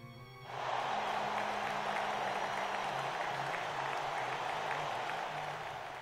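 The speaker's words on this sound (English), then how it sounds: "That was stock crowd audio if I ever heard it" Stock crowd audio in the video game Cafe Enchante: a steady wash of applause and cheering that rises quickly and holds at an even loud level, with low game music underneath.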